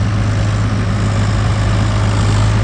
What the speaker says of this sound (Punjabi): ਟਰੈਕਟਰ ਵੀ ਦੇਖ ਲਓ ਪੂਰਾ ਵੱਧ-ਵੱਧ ਕੇ ਜ਼ੋਰ ਲਾਉਂਦਾ ਵਾ